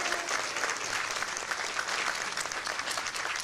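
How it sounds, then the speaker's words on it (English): Audience at the Miss Alabama State University coronation applauding, a steady burst of crowd clapping filling the hall without a break. "Please give this Miss ASU another round of applause."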